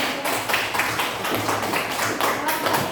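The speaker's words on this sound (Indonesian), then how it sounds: "Beri tepuk tangan dulu untuk kelompok 1 dan kelompok 2" Classroom of pupils clapping together for two student groups, a dense, steady patter of many hands close by with some voices mixed in throughout.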